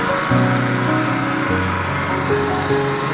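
Honda EM6500CXS 6.5 kW petrol generator running at a steady, even drone close by, with a constant engine hum and no voices.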